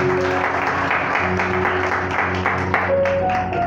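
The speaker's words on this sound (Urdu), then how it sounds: "ان کے بھی ذرا زوردار تالیاں" At a church gathering in Attock, Pakistan, a congregation applauds the worship team and musicians with loud, steady clapping over sustained keyboard tones.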